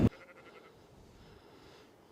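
A single sheep gives a short, wavering bleat outdoors, moderately distant and fairly quiet, after a brief thump, followed by faint ambient noise.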